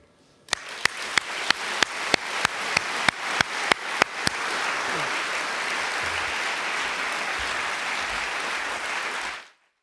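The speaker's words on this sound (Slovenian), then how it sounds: "Naj bo zaključek nocojšnjega večera še en aplavz, s katerim izkazujemo letošnjim nagrajencem naše priznanje in občudovanje." An audience claps in honour of the year's award winners at the Slovenian Chamber of Commerce (GZS) awards ceremony; a burst of sharp, distinct claps quickly swells into dense, sustained applause that holds steady, then stops abruptly.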